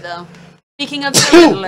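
One short, sharp sneeze bursts out between stretches of conversational talk during a Lego Batman 2 DC Superheroes game stream, loud and close with a quick breathy onset.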